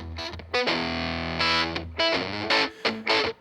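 Overdriven electric guitar chords ring out through a tweed Princeton amp, sustaining with the amp's reverb wash between strums.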